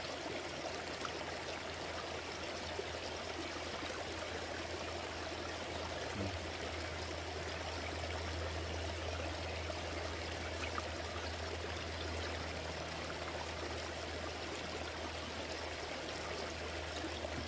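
A creek in the countryside runs in a steady, even rush of flowing water, continuous and close, with no voices over it.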